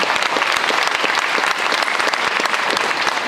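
Loud, steady applause from a sizable crowd at a high school signing day, many hands clapping densely and continuously throughout.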